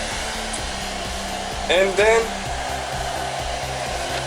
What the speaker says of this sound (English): we need to get the hair dryer right here, this regular hair dryer